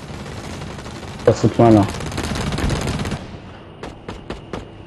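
Sniper and automatic gunfire from a competitive online shooter match cracks in bursts beneath continuous excited French team chatter, ending with several sharp, isolated shots in a quieter stretch.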